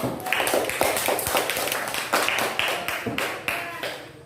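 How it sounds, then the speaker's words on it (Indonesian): Schoolchildren in a classroom clap for the first group after its presentation, a moderate run of distinct, rhythmic hand claps that repeats in loose bursts for about four seconds, with faint voices underneath. "sekarang beri tepuk tangan kepada kelompok 1"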